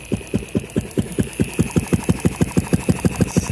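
A Yamaha Blaster engine fitted in a 125 motorcycle being turned over with a rapid, even chugging rhythm of about six pulses per second, close and steady with no voices.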